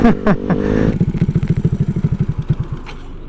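A Honda Ruckus scooter tuned for high speed pulls away at low revs, its single-cylinder engine thumping in a fast, regular putter close by after a brief clatter.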